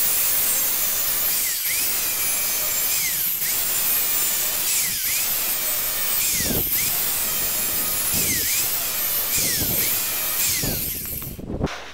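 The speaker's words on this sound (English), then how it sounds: "So now I'm just going to cut this off with the angle grinder" An angle grinder cuts through a metal burner pipe for a forge in a series of long, close, loud passes, its whine dipping at regular breaks between strokes, with no voices.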